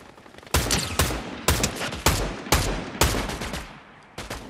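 Rapid bursts of video game gunfire, seven or eight sharp broadband shots in quick irregular succession, loud and close with reverberant tails and no talking.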